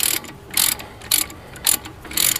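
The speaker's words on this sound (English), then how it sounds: "this is where you're going to need your thin wrench to tighten this back up" Rhythmic ratcheting bursts from a thin wrench tightening a brake caliper bolt on a 2014-2018 Jeep Cherokee KL front brake, five short clicking pulses at even intervals, close and alone.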